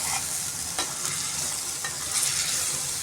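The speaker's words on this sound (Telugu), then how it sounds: "ఇప్పుడు బాగా కలిపేసుకుందామండి" Chicken biryani marinade with chilli powder and salt is mixed in a bowl, giving a close, wet, squelching stir with a few soft clinks, steady and unbroken.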